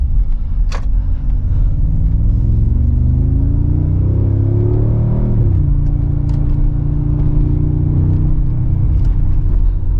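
A Mercedes-AMG G63 V8 drones steadily while driving, a loud, continuous low rumble with the pitch rising under acceleration, dipping at a gear change, then building again.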